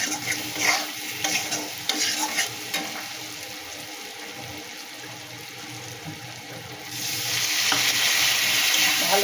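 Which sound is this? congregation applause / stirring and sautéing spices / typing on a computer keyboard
stirring and sautéing spices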